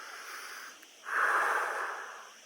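Slow, airy breathing during a relaxation exercise for anxiety: a soft exhale, a short pause, then a longer, stronger breath, close and steady, with no talking.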